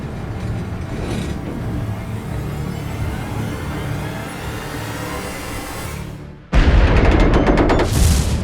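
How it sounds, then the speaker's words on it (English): A steady, dull roar gives way to a sudden loud burst of rapid, cracking blasts that follow one another in a quick series, from a fire aboard a ship at sea. "I heard a series of explosions."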